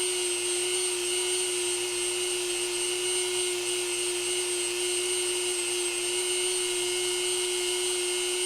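Close, loud and unbroken, the high whine of a running Dremel rotary tool holds one steady pitch throughout, sounding much like a dentist's drill, with no voices.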